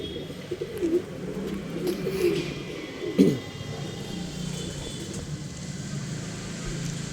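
Male birds kept for sale coo softly and repeatedly against a low background rumble, with one brief louder rustle or thump midway and no talking.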